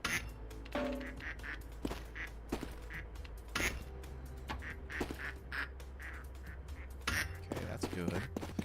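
Ducks quack repeatedly in a video game feeding session, short nasal calls scattered across the scene at moderate loudness over a steady low background hum, with a person talking intermittently.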